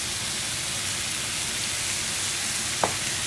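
Mushrooms frying in a pan with a splash of white wine, a steady broadband sizzle running throughout with one brief sharper crackle near the end, close and alone without any voices.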